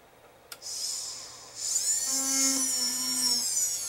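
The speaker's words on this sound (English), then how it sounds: "proceed to drill a hole through this." A small drill bit whines at a high pitch for a few seconds drilling through metal at a jeweler's bench, starting with a sharp tap, then rising and settling into a steady, close metallic drone.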